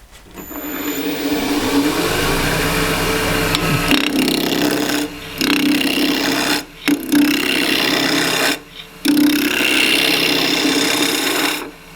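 A scrap-wood spatula blank spins on a lathe while a skew chisel cuts it, giving a steady, close rasping scrape. Several brief pauses break the sound as the tool lifts off the wood. No one speaks.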